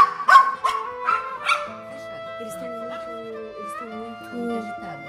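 A dog gives a few quick sharp barks at the start, close and loud, then quiets as music or a droning tone carries on underneath.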